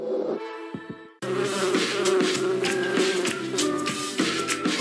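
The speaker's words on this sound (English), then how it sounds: "I'm keeping a colony of bees right in my backyard." Bees buzz steadily and fairly loudly in a TV commercial about keeping a backyard colony, a continuous droning hum following a brief quieter opening.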